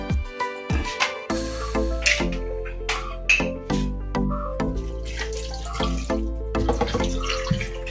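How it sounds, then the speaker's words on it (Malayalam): Vinegar pours and splashes steadily into a pan of fish pickle, with a few clinks and knocks of a container or utensil along the way. "ഇത് ഗ്രേവി ആക്കാൻ നമ്മൾ ചുറുക്ക ഒഴിക്കും"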